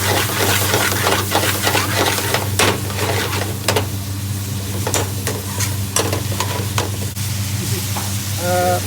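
Onions and spices stirred while caramelizing in a pan for a lamb leg dish, giving a steady close frying sizzle with scraping stir strokes and brief clicks throughout, no talking.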